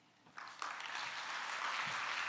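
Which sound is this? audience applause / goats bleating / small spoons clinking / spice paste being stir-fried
audience applause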